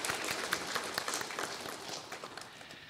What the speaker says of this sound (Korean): 감사와 영광의 박수 올려드리겠습니다.